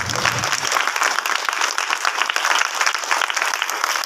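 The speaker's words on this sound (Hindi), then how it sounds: "ताली बजा करो प्रभु।" Sustained applause from a congregation at a church meeting in Rajnandgaon, India, dense steady clapping from many hands filling the room for several seconds, loud and close.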